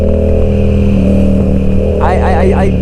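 A motorcycle engine hums steadily at riding speed under loud wind rush, with a brief rising rev toward the end, close and prominent throughout.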